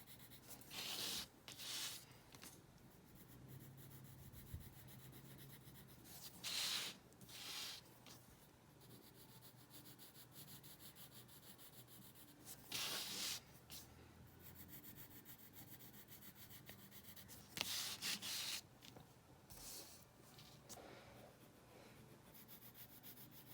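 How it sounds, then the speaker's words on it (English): Pencil shading on paper for an eye drawing, heard as soft, close scratchy rubbing strokes that come in short bursts separated by quiet pauses, faint and dry. "I'm turning my paper as I shade it this way."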